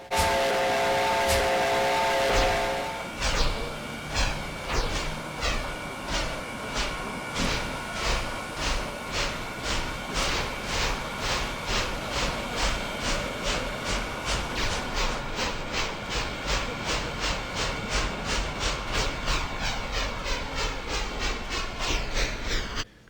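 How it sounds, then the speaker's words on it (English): Two EE electric locomotives pulling a train out of a station, a loud horn blast first, then a steady roar with a rapid, regular rhythmic clatter building as the train moves away, with no voices. "the two EEs roared out of the station"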